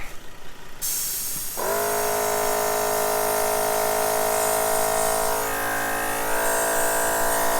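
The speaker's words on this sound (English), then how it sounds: "I'm not going to bore you with the whole video on pumping up tyres" A portable tyre inflator pump switches on and runs steadily, a loud continuous motor drone with a strong mechanical whine, filling a car's tyres outdoors.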